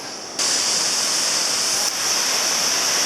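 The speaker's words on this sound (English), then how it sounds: "Sasuyat Falls, check that out." Sasuyat Falls waterfall heard close as a loud, steady broadband rush of falling water that jumps louder early on and holds alone throughout.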